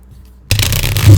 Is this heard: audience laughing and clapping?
no